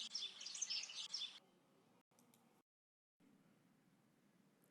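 Baby bird chirping in a forest, a burst of bright, rapid high-pitched tweets in the first second and a half, then faint scattered sounds and quiet.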